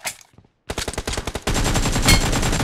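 Gunfire from the mobile shooter BGMI, a short rapid burst of separate shots followed by dense, loud continuous automatic fire that fills the rest of the moment.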